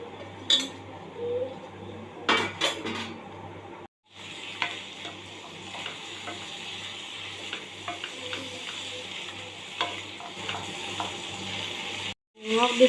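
Spices, including cardamom, fry in a pan for a rajma and tomato curry, with continuous close sizzling under repeated scraping and clattering of a spoon stirring against metal and short gaps of near silence.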